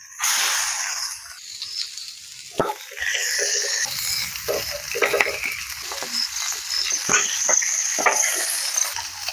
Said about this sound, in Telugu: ముందుగా ఫిష్ వేసుకోవాలి ఫ్రై చేసుకోవడానికి